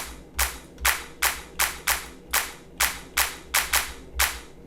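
A hard clap sample in FL Studio with its low frequencies cut repeats about ten times at a steady beat, each clap sharp and bright with a short decay, alone with no talking.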